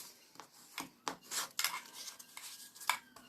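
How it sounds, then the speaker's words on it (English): Score lines on card being burnished with a tool, a series of short dry scraping and rubbing strokes, close and fairly quiet, with brief taps between passes and no talk. "Now we're just going to burnish our score lines."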